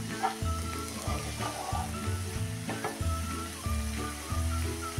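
Coriander leaves stir-fried into a cauliflower kheema, giving a steady close sizzle and frying hiss with repeated scraping stirs at a regular rhythm and no voices.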